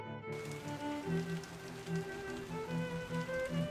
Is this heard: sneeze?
no